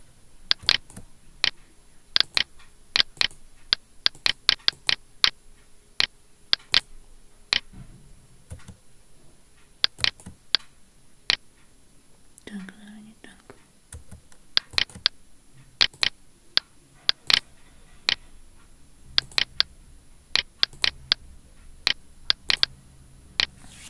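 Sharp, isolated clicks of keys tapped on a computer keyboard in a quiet room, coming in irregular bursts with short pauses, close and crisp, with a brief soft rustle partway through.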